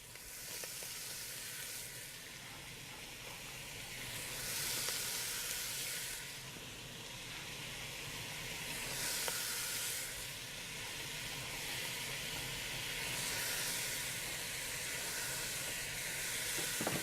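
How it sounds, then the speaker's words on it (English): Chopped celery sizzles and hisses steadily in a big soup kettle with browned Italian sausage, a continuous close frying sound with occasional stirring. "In goes our celery."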